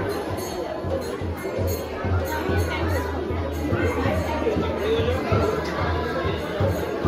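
Crowd of devotees at a Radha Krishna temple in New Vrindavan, a steady murmur of many overlapping voices nearby, with one voice speaking more clearly over the babble.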